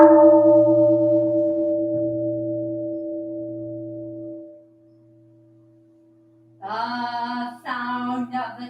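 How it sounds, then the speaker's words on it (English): A temple bell at the Ann Arbor Zen Buddhist Temple booms once with a deep, steady hum that fades slowly into silence over several seconds before a person begins speaking. "The sound of the temple bell booms for all to cease from conflict."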